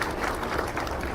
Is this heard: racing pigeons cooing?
no